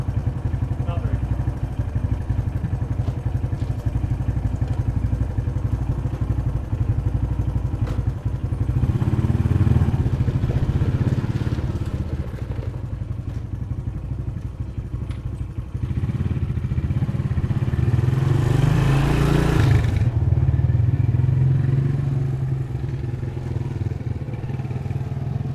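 A Suzuki LT230S Quadsport ATV rides off with its small engine buzzing loud and steady, bumps and clatter along the way, and a rising rev burst near the end.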